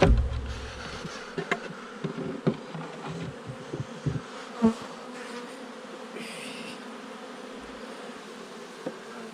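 Honey bees buzz around an open beehive, a close, steady drone under scattered knocks and scrapes from hive work, with no voices.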